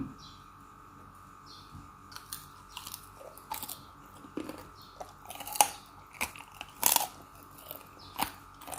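Crisp air-fried pork belly being chewed up close, with a series of sharp, irregular crunches and bites over a quiet background, loudest toward the middle and end.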